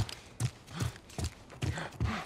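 Horse hooves clip-clop in The Last of Us video game, a steady series of paced footfalls, each a distinct low thud with a crisp click, moderately close with no talk.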